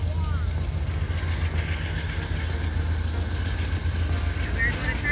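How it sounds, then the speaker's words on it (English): A train rumbles past at a carnival as a loud, steady low roar with a continuous mechanical drone throughout, and people talking underneath. "The train is loud, dude."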